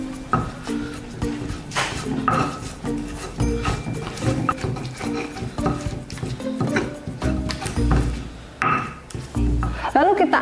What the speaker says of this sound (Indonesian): Kita ulek lagi.